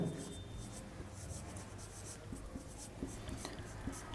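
Writing during a calculus lesson on derivatives and maximum and minimum values comes through as faint, continuous scratching strokes with light taps, close and quiet, with no talk over it.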